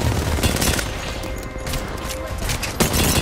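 Rapid, close gunfire bursts from a video game shootout in Apex Legends, including fire aimed at the character Loba, with dense overlapping shots throughout and loud cracks near the start and end.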